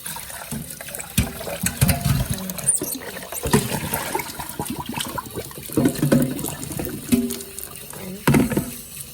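Rice being rinsed and drained in an Instant Pot inner pot, with running water, swishing and pouring splashes at close range, some with brief clanks against the pot, under and between stretches of talk.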